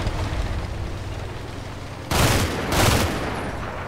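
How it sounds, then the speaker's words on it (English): Bursts of machine gun fire rip out in the Combat Mission war game: steady battle noise, then two loud sustained volleys, each about half a second long, with no talk. "his machine gunner is opening up on him, it seems"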